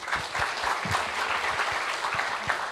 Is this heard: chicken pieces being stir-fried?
no